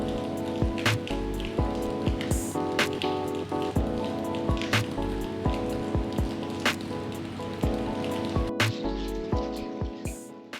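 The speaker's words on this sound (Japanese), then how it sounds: "ここも土砂降りの雨。" Heavy rain pours down during a winter trip along the Japan Sea coast, a dense, loud hiss with a constant drumming patter and repeated sharp drips or splashes landing close by.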